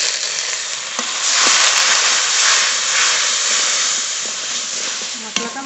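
Water is poured into hot spice masala of salt, turmeric and chopped tomato in a pan, setting off a loud, steady sizzle and hiss that holds almost unbroken, with a few faint knocks underneath.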